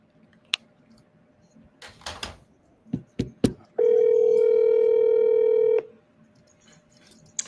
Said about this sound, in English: I'm gonna keep dialing too.